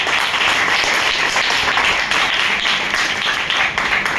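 Steady, dense applause from a seated audience at a motivational team meeting, heard at moderate level throughout with no speech over it.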